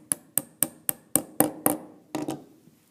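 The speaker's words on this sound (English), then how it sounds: "Axle again into the hole with the hammer part of your pliers." Pliers' hammer face strikes a toy car axle into its hole, giving nine sharp metallic taps in a steady rhythm, the last two coming closer together after a short pause. Close and clear, with no voices.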